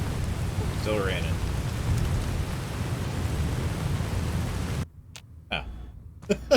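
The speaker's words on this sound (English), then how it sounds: "Still raining." Steady rain in Fallout: New Vegas hisses as a dense, loud wash for most of the stretch, then cuts out abruptly near the end, leaving near-silence broken by a few sharp clicks and brief bursts.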